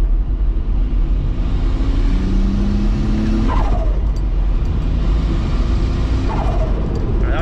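A VR6 turbo wagon pulls hard under throttle, its loud engine note climbing in pitch, then drops as it shifts into third and climbs again, heard close from inside the car.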